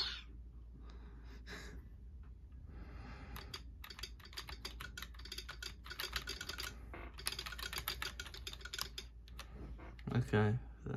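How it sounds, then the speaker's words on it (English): Computer keyboard set to a basic click sound effect, typed in quick irregular bursts of crisp clicks that grow denser midway, with a short breathy vocal sound near the end. "Let's do basic click sound."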